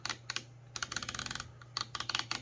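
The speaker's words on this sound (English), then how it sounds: "this has very audible clicks, and you can hear that" Cabela's CX Pro 34mm rifle scope turret dial being turned, rapid crisp clicks in quick bursts with brief pauses, close and clear.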